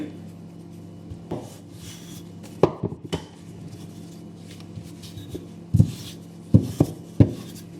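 Floured momo pastry dough for vegetarian momos is rolled out thin, giving a low, steady rubbing rumble broken by scattered sharp knocks and clacks that grow more frequent toward the end.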